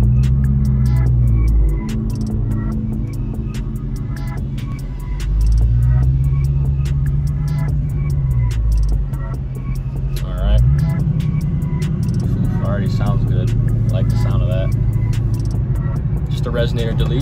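A 2021 Dodge Charger Scat Pack with the 392 engine and a resonator delete pulls away in sport mode, its deep exhaust drone rising and falling through gear changes from inside the cabin, with someone talking over it.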